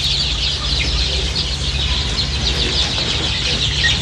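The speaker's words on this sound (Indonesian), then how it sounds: "Ayam-ayamnya sangat lahap memakan singkong yang diparut." Free-range village chickens clucking steadily while they eagerly eat grated cassava mixed with corn and feed pellets in a low-cost coop, a continuous busy mix of close fowl sounds with a low hum underneath.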